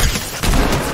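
Semi-automatic gunfire in Fortnite, heard as a loud, dense, crackling burst of shots that dips briefly and then resumes, with no talking.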